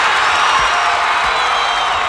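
A basketball crowd on its feet at a 1989 Class D high school final, a loud, dense wash of cheering and shouting that stays steady throughout.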